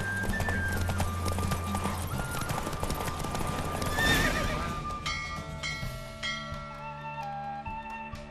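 Roach, a horse in The Witcher 3 video game, gallops in a race with rapid, rhythmic hoofbeats, then gives a loud neigh and whinny partway through, over game background sound.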